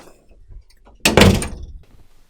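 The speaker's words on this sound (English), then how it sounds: "Okay, I will close the door on you." Close by, a door shuts with a single loud thunk after a few soft shuffling sounds, followed by quiet room noise.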